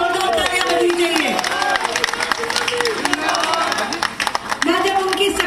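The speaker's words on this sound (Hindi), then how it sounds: "जोरदार तालियां बजनी चाहिए।" Loud applause from a crowd at a political rally in Delhi, broad clapping and cheering that carry on under a woman's amplified speech and tonal calls, rising and falling across several seconds.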